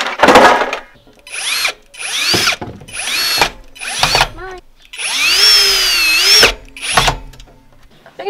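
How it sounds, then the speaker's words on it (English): A power drill drives screws through pallet boards into a cross timber on a small outdoor garden table, in a series of close, whining bursts that rise in pitch, with short pauses between them. "I think I'm just going to line them up with my cross timber here and simply screw them in place."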